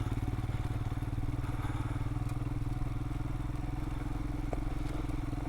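A motorcycle rides steadily along a green lane, its engine throbbing evenly and close throughout, with occasional small knocks and rattles over the rough track and no talking.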